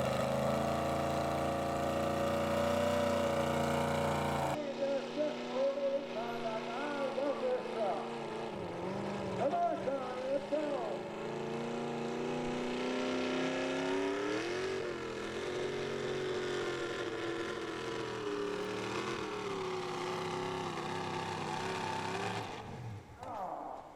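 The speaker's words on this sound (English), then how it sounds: "this is Charlene Schilling with the Disorderly Conduct truck, a 1954 Chevy, a new truck for 2023" A 1954 Chevy pulling truck runs down the track at a truck and tractor pull, its engine a loud, steady drone that shifts in pitch and bogs unevenly, with a faint voice underneath.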